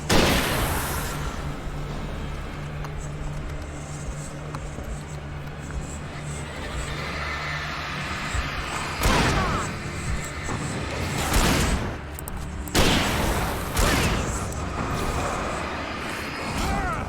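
Flashbang blast and gunfire in the video game Alan Wake: sharp bursts at around nine, eleven and thirteen seconds stand out over a busy, steady game soundtrack.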